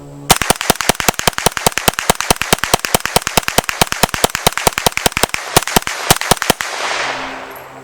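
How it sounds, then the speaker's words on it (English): A rifle fires a rapid magazine dump into a brass catcher, around forty sharp, loud shots in a fast, steady rhythm before stopping abruptly, followed by a brief rustle. "I'm just going to mag dump it."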